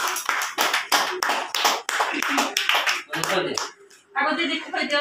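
Bursts of hand clapping at a family birthday celebration with cake cutting, sharp rhythmic claps mixed with people talking and calling out over them, close and lively.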